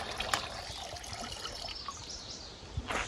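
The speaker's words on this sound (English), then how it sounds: "I'm gonna add an equal amount of diesel." Diesel poured into used motor oil to make a homemade wood stain at an off-grid cabin in the woods makes a soft, quiet trickling stream with faint outdoor ambience behind it.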